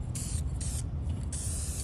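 Gloss black aerosol paint sprayed onto a truck interior in three short hissing bursts with brief gaps between them, close and distinct over a low background rumble.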